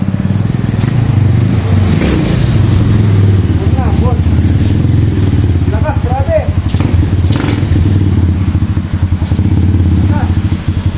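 A KRY 200 motorcycle fitted with an RS8 Red Speed 28mm round-slide racing carburettor accelerates at half throttle on the road, its loud, steady engine roar filling the whole stretch with faint voices underneath.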